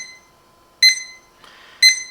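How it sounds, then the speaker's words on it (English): A digital alarm clock sounds its alarm in two sharp, bright beep bursts about a second apart, close and clear over a faint steady hum. "Now let's wait for the second alarm."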